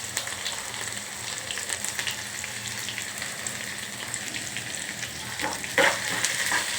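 Potatoes fry lightly in a home kitchen pan, giving a steady close sizzle and crackle with a few sharper pops near the end, no talking.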